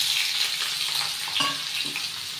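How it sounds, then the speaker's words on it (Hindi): Long-cut potatoes fry with chillies in a pan. A steady close sizzle is broken by brief stirring scrapes, with no voices. "एक से दो मिनट मैं अपने आलू को इसी तरीके से भूनूंगी।"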